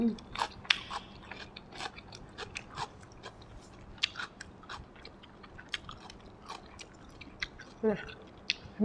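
Fried meatballs with a dipping sauce eaten alongside cucumber, close-up bites and wet crunchy chewing repeating throughout, with occasional faint talk in the background.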